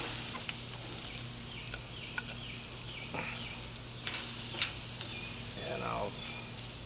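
Steady sizzling of onions on a hot charcoal Weber Smokey Mountain grill, a crackly hiss throughout, with a few faint bird chirps in the background.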